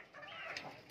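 A hen clucks loudly and continuously right after laying an egg on a home farm, a close, busy run of squawking calls with no pauses over one second.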